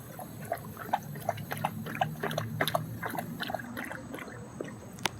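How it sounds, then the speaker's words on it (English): A push-button dog water fountain at a park in Lewisburg, Pennsylvania, running as water splashes and trickles in a steady close patter with small bursts, with no talking over it. "Just press this button. And there you go. Instant water coming out."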